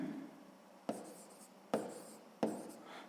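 Handwriting during a sixth-grade maths exercise gives three distinct scratchy pen strokes, evenly spaced and close up, over a quiet room with no speech.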